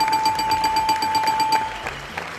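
Buzzer pressed to bring in the next speaker during a stream, sounding a steady, clear electronic tone for over a second before cutting off, close and fairly loud.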